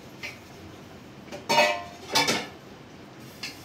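Dishes and cooking pots being handled in a home kitchen, with a few sharp clanks and clatters spaced through a quiet background and two louder metallic rattles in the middle.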